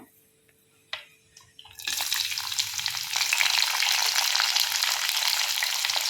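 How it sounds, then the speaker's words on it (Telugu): Onions dropped into hot oil with mustard seeds and cumin for an okra dish, a few soft clicks and a thump before a loud, steady sizzle of frying that continues to the end. "కొంచెం ఆవాలు, కొద్దిగా జీలకర్ర, ఫస్ట్ ఆనియన్స్ వేద్దాం"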